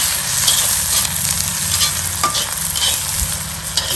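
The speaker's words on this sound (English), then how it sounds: "we're going to put our red peppers in there. Give them a stir." Red and green peppers stir-fry in olive oil in a Lodge wok over a Weber charcoal grill, with a loud, constant sizzle and faint scrapes of stirring.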